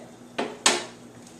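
Two quick metallic scrapes and clinks from a utensil against a pan while white cheddar cheese is mixed into food, close and brief, with a faint third touch afterward and no talking.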